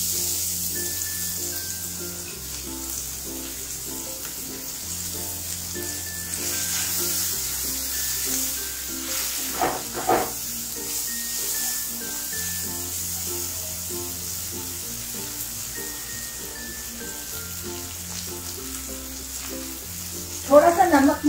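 Chopped small onion and garlic fry in a pan with a steady, close sizzle lasting throughout, broken now and then by stirring scrapes, with soft background music and a brief louder clatter near the end.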